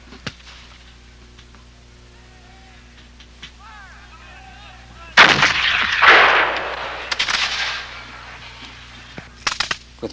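Cannon fire at a re-enactment of the 1777 Battle of Bennington, with a loud outdoor blast and long rumbling decay, preceded by faint field sounds and followed by scattered sharp reports and crowd noise.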